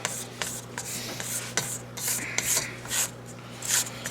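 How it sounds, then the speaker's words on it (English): A spatula scrapes around the sides of a mixing bowl of red velvet cake batter, giving a series of short, soft rasping strokes close by, with a low steady hum underneath and no talking. "give my bowl here another scraping to clean out the edges"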